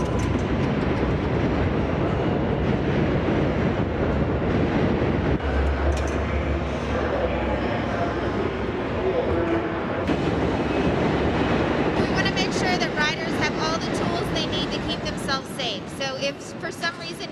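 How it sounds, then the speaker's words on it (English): Manhattan-bound 7 local subway train in New York running loud and continuous, a heavy rumbling, clattering roar with a brighter screech of wheels toward the end, people talking faintly underneath. "This is a Manhattan bound 7 local train."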